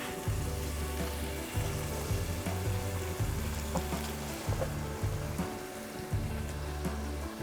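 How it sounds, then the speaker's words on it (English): A pound of hamburger meat with garlic browns in a pan, giving a close, continuous crackling sizzle with a steady, slightly pulsing texture and no talking. "We're going to brown the hamburger meat."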